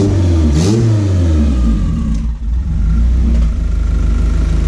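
A running Integra car engine drones loudly and steadily nearby, with a brief wavering stumble early on and a short dip in the middle where it momentarily misfires before recovering.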